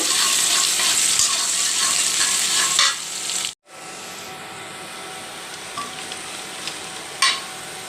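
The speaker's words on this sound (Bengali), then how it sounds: "পেঁয়াজটা একটু বাদামি করে ভেজে নিব" Onions sizzling in a hot pan as they brown for an egg curry, a loud continuous close frying hiss with occasional stirring scrapes and a brief break in the middle.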